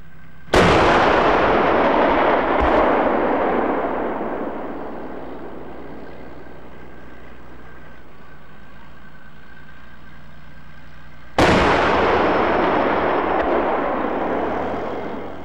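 Two 120mm tank practice rounds fire about eleven seconds apart, each a sharp, very loud blast followed by a long rumbling echo that slowly fades.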